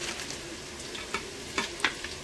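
Masala sizzles steadily in a frying pan while a spatula stirs it, producing several short scraping strokes over the continuous hiss of hot oil.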